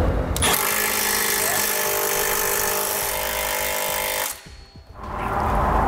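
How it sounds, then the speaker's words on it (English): Impact wrench with an 11/16 socket snugging down the nuts on a Curt trailer hitch receiver being installed on a 2017 Cadillac XT5; a loud, steady mechanical rattle runs for about four seconds, then cuts out briefly before resuming. "now we'll snug down all of our nuts with 11/16 socket"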